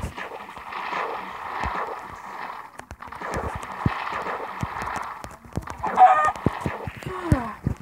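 Chickens cluck in Minecraft survival gameplay, short bursts of fowl noises repeating amid clicks and footsteps, with players talking over them near the end.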